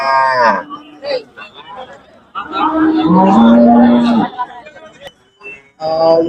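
Kangayam native cattle moo loudly and close at a busy cattle market near Punjai Puliampatti, Erode, with several drawn-out calls over background chatter and people talking.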